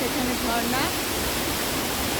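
A waterfall swollen by heavy rain beside a mountain road near Lachung gives a loud, steady, broadband roar that runs unbroken throughout, with faint voice-like traces early on.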